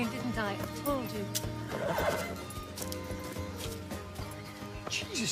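A horse whinnies during a tense outdoor scene, several rising neighs over clopping hooves, with people talking and music running underneath.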